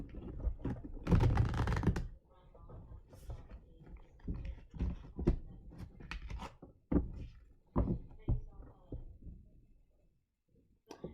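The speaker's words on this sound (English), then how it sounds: "just shuffling this last deck for you" Tarot cards shuffled by hand during a live reading, giving a burst of fast riffling in the first two seconds, then a string of soft taps, flicks and card-handling clicks up close with short pauses.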